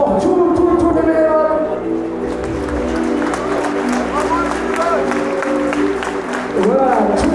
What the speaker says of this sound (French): j'aimerais vraiment qu'on applaudisse très très fort tous les bénévoles